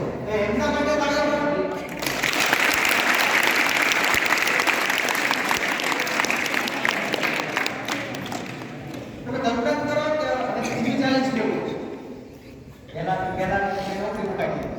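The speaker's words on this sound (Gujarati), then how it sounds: "તો એમના માટે તાળીઓ" An audience at a school farewell ceremony for Class 10 and 12 students breaks into sustained applause for the teachers. The clapping runs loud for several seconds between stretches of talk.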